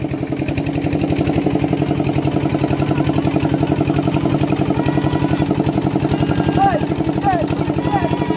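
A loud, close trawler boat engine chugs steadily in a fast, even rhythm throughout on Tanguar Haor wetland, Sunamganj, with a few faint chirps near the end.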